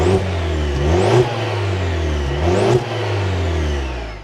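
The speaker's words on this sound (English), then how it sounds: "let's start this up, take a listen to that turbo engine" A 2026 Cadillac CT4-V turbocharged engine starts and revs up twice in rising sweeps, then settles back toward a steady hum; loud and close, with no voices.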